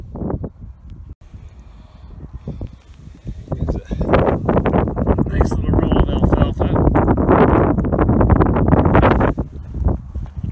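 Wind buffets a microphone outdoors on a rainy, muddy day, a broadband rumbling roar that swells louder in gusts through the second half, with talking heard over it.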